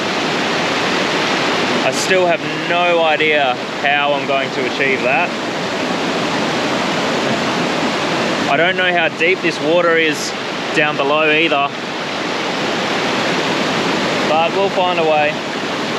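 A hidden waterfall in the Southern Forests of Western Australia pours in a steady, loud broadband rush that fills the whole scene, while someone speaks over it at intervals.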